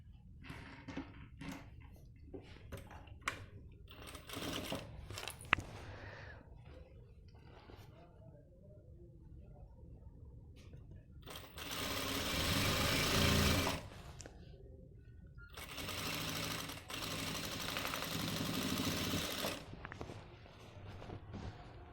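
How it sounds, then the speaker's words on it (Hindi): A sewing machine stitches the seams of men's trousers in two sustained runs of dense whirring, the second longer, after a stretch where someone talks over light handling noises of fabric. "बिल्कुल बराबर मिलाते हुए सिलाई कर देंगे अब।"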